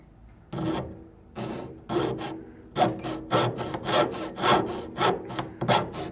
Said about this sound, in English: You're going to take your saw. You're going to start your line about, that's about an eighth to a quarter inch in on the tubing there.